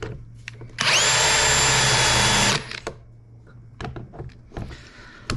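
A power drill drives a screw into a hinge on a kitchen cabinet door, one loud sustained whir of about two seconds with rising pitch, followed by quieter clicks and handling noises.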